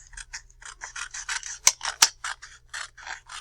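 Scissors snip through craft paper for a letter C activity, a steady series of about twenty short crisp cuts close by, with two sharper louder snips in the middle.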